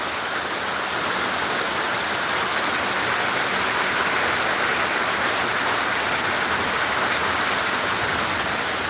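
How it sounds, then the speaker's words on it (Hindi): Heavy rain pouring down steadily, a loud, unbroken hiss of water with no pauses from start to finish. "बहुत ही बेहतरीन झमाझम बारिश का आनंद लो भैया।"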